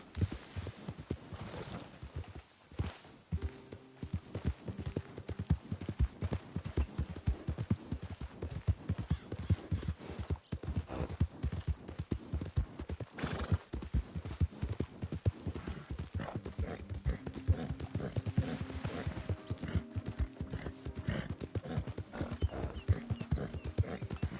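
Horse hooves clip-clopping at a steady galloping rhythm in the Western video game Red Dead Redemption 2, continuous and fairly close, with a faint tonal layer of music underneath and no talk.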